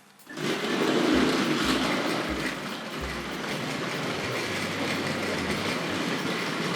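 A Tri-ang B12 model locomotive, an LNER engine, runs along a model railway track, giving a steady close whir and rhythmic clickety-clack over rail joints that continues throughout without talk.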